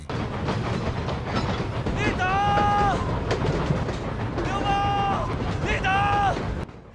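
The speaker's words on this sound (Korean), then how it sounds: "기차의 지붕에서 거센 비바람을 맞으며 마지막 종착지를 향해 가던 이때" A train runs along the tracks through driving wind and rain, a loud, continuous rumble and clatter close by, with voices cutting in over the noise several times.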